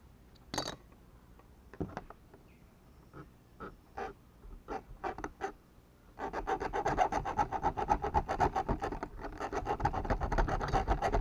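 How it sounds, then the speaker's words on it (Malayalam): Copper wire being cut into short lengths of about five centimetres, starting with a few separate sharp snips and scrapes, then giving way to a dense, continuous rasping, sawing scrape close by, with no talking. "ഒരു കോപ്പറിൻ്റെ ഇതുപോലെ കമ്പി എടുത്തിട്ട് ഈ അഞ്ച് സെൻറ്റിമീറ്റർ വെച്ച് മുറിക്കുക"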